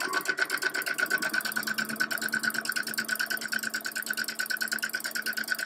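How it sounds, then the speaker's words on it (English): A sewing machine runs a quarter-inch seam through fabric for a quilted house block, its needle chattering in a fast, steady rhythm close by with no talk. "I'm just going to sew at 1/4 inch."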